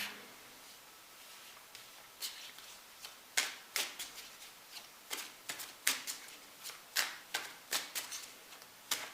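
Tarot cards being shuffled by hand: a series of crisp riffling bursts that grow more regular, roughly one every half second or so toward the end, close and fairly quiet with no talk.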